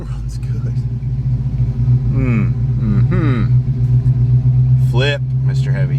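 A Mustang's engine idles with a steady low rumble throughout while someone talks over it.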